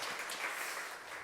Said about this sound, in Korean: 우리 장로님, 권사님 박수 한번 해드릴까요?